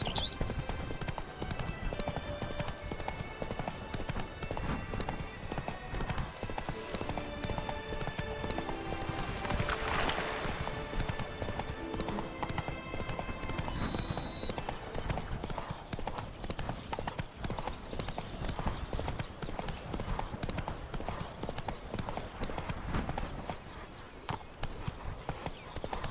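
Horse hooves clip-clop in a steady galloping rhythm throughout in The Witcher 3, loud and continuous over game music and ambience, with a brief whinny partway through.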